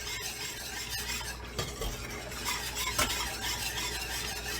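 Potato au gratin sauce mixture stirred in a pan, with steady close scraping and swishing over a soft broadband hiss, a few sharper scrapes and no talking.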